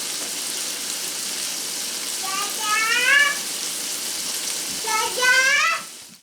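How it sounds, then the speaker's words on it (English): A steady, bright sizzle of fresh sea scallops sauteing in a hot pan, with a few chirpy squeaks rising over it partway through. "Also doing some fresh sea scallops, sauteing them."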